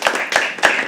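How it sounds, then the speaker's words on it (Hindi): Brief burst of audience clapping at a live poetry open mic, a few sharp close claps in quick rhythmic succession lasting under a second, no speech. "एक बार जोरदार तालियां पूजा के लिए यार."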